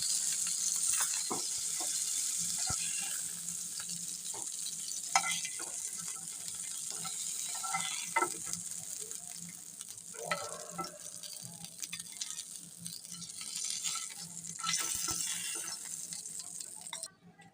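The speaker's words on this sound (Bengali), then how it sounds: "ফ্রাই প্যানের তেলটি গরম হয়ে গেছে এখন মাছগুলোকে দিয়ে ভেজে নেব" Boal fish fry in hot soybean oil in a frying pan with a continuous loud sizzle. Occasional clinks and scrapes come as the pieces are turned, and no one talks.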